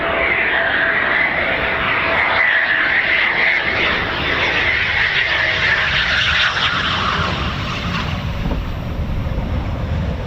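Eurofighter Typhoon FGR4 jet at RAF Coningsby, a loud steady roar of engine noise filling the whole stretch with a broad rushing hiss, swelling slightly in the middle and holding strong to the end, no voices.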